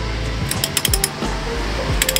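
Torque wrench tightening Spoon Sports lug nuts on a wheel of an Acura RSX DC5, a quick burst of close metallic clicks and ratcheting ticks in two short clusters over a low steady hum.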